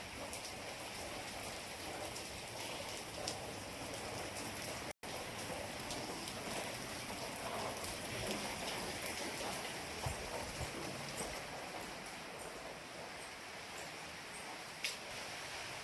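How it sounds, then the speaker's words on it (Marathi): Heavy rain pours steadily over a village, a dense, continuous hiss of drops pattering on surfaces with scattered sharper ticks, loud and unbroken apart from one brief dropout, with no voices. "तर आता भरपूर जास्त आलाय बघा पाऊस"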